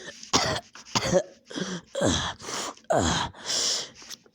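Harsh, wet coughing from an ill person coughing up blood, in a series of bursts with gasping breaths between them, close and loud.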